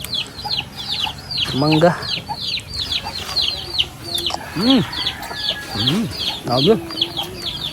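Many chicks peep noisily and continuously in a dense, high-pitched chorus, with chicken clucks and calls mixed in and people talking over them.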